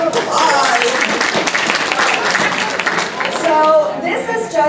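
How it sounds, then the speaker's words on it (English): Audience at a personal branding workshop gives a round of applause, a thick spread of clapping from many hands with voices and chatter mixed through it. "Everybody, round of applause."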